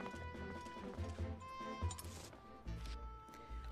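Horse hooves in the video game Twilight Princess HD clop in a loose rhythm of soft low thuds, set under steady game music with no talking.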